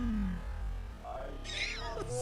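A cat meows twice, the calls faint and rising and falling, heard through steady background noise with people reacting nearby.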